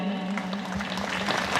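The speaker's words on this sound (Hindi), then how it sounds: "उसके नाम से जोरदार ताली बजती रहनी चाहिए।" Congregation applause at a festive church mass, a brief burst of steady clapping heard alone for under two seconds.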